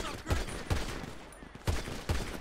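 A handful of quick gunshots ring out in GTA 5 roleplay, five or so sharp bursts spread across a couple of seconds, moderately loud and slightly distant, with no speech.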